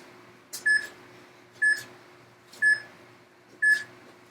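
A workout interval timer gives four short, sharp electronic beeps, each about a second apart in an even rhythm, standing out clearly over a low background hum.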